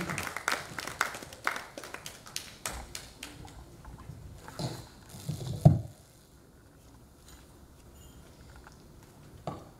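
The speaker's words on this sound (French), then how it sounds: "je vous demande de pouvoir encore les ovationner pour que nous puissions démarrer notre panel" An audience at an agro-industry panel gives a short, sparse burst of clapping with scattered claps and a few knocks before it falls quiet, moderately close.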